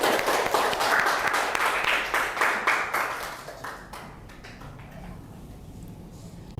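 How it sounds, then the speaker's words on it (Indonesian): A classroom audience claps together, a lively burst of applause that thins out and fades to quiet murmuring. "mari kita berikan tepuk tangan untuk semuanya"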